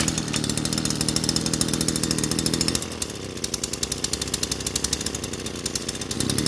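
A Kawasaki TD33 small two-stroke engine idles close by with a rapid, even putter, the pitch dropping a little as the throttle eases partway through, then rising again near the end.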